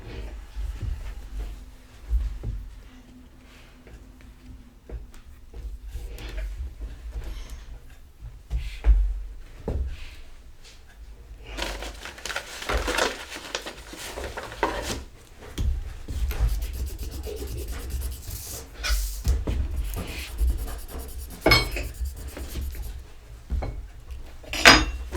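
Knife or scraper cutting through risen pretzel dough on a board, with scattered rubs, scrapes and clacks of utensils, close and moderately quiet, building to busier scraping in the second half.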